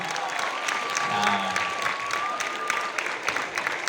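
A concert audience in Truskavets claps together in brisk, continuous applause over a steady murmur, with a faint tone lingering in the background.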